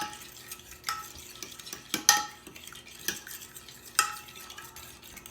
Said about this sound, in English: Make sure that brown sugar is mixed in there.